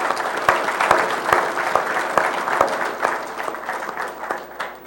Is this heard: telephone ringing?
no